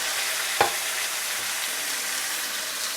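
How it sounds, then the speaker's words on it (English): Turkey breast browning in a hot pan for a crockpot Thanksgiving dinner, a steady bright sizzle and crackle with one sharp clack of a utensil or meat early on. "So we're just going to brown it up a couple minutes on each side."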